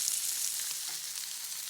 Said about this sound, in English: You want to fry the patties about 4 to 5 minutes on each side until they've got a golden crust.